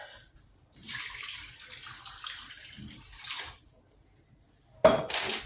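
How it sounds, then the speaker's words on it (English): Milk and broth poured into a pan of cooked ground meat for homemade hamburger helper, a steady liquid splash lasting a few seconds, then a louder brief splash near the end; no talking. "So now I'm going to stir in my milk. My broth."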